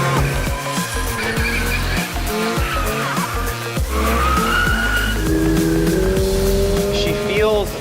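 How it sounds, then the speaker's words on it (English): A 2022 Subaru BRZ drifts with its engine revving hard and its sport tires squealing in long rising and falling screeches, the sound loud, close and sustained throughout. "now let's see if we can't drift this thing a little bit"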